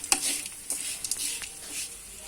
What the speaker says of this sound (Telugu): ఈ పోపులో ఈ పనసపొట్టుని వేసేసుకొని ఇది బాగా కలుపుకోవాలండి